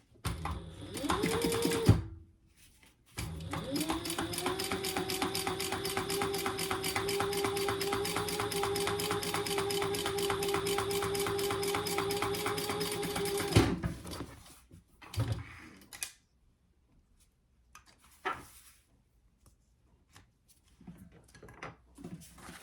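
A sewing machine runs a long, steady, rapid stitching burst for about ten seconds, topstitching an eighth-inch seam, with a short start beforehand, followed by scattered handling clicks and rustles of fabric.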